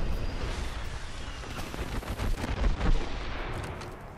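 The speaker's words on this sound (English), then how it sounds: "I am taking fire, friends." Gunfire in the video game Apex Legends, a dense, continuous roar of shots and impacts that swells toward the middle, loud and without talk.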